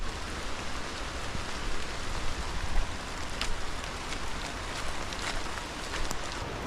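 Steady rain falling in Samoa, an even hiss of drops spread through the whole stretch, with a few sharper patters standing out near the end and no voices.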